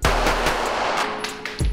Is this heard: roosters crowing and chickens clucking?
no